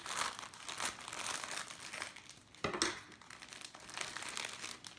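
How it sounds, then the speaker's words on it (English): Close crinkling and rustling of a plastic bag being handled and opened, with irregular crackly bursts and one sharper crackle midway. "I'm going to carefully take this out of the bag. Oh my gosh, if I can figure out how to open it."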